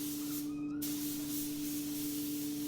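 A paint spray gun lays a coat on a Jeep Cherokee, giving a constant loud airy hiss with a steady hum underneath, continuous throughout with only a brief dip near the start.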